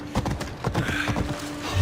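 A horse in Assassin's Creed Odyssey, its hooves clopping in a quick, irregular rhythm with low thumps, close and fairly loud, with no voices over it.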